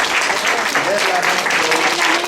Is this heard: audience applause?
yes